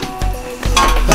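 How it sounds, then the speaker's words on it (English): A glass bowl is set down onto a double boiler on the stove, giving a few short clinks and knocks in a quiet kitchen. "So I'm going to insert a glass bowl."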